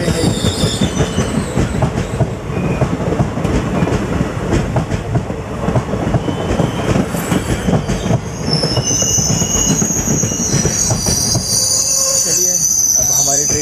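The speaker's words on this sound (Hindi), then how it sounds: "अभी बिनाकी रेलवे स्टेशन से ट्रेन डिपार्ट ले रही है" A passenger train departs Binaki railway station in India with loud, continuous wheel rumble and clatter, then sharp high-pitched wheel squeals rise near the end, close and steady.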